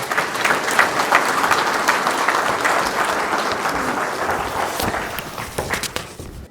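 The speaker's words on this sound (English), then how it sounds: "I'd like you to give a warm welcome to Tom Harley." A crowd gives a speaker a warm welcome with dense, sustained applause. It stays loud and fairly even, then thins toward the end.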